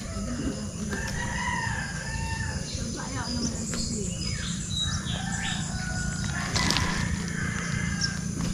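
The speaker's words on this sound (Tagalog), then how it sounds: "Nabubulabog lang ang manok." Chickens cluck and squawk in agitation, with a rooster crowing amid a steady noisy background and chirping birds.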